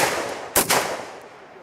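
A single sharp gunshot cracks during shooting training at a range, a loud short burst with a quick echo over a steady background hiss.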